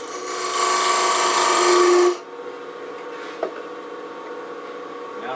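A point tool scrapes against spinning cherry burl on a wood lathe, marking a bead line in a steady, loud rasp for about two seconds before the cut stops and the motor hums on.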